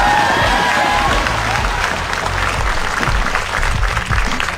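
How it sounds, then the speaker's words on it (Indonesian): A school audience applauds a contestant during a quiz competition, dense steady clapping with some crowd noise and cheering, loud and continuous throughout. "Tepuk tangan untuk Odi dari tim C."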